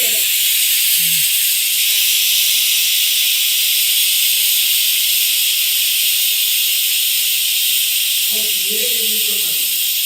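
A pressure cooker cooking kadambam for a Dasara offering vents a loud, continuous rush of steam hiss that fills the whole stretch, with brief voices heard near the start and end.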